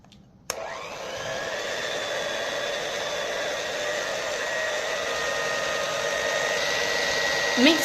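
An electric mixer beats powdered sugar into frosting, starting with a sharp click and then holding a steady, loud whirring motor drone at an even pitch for the rest of the stretch.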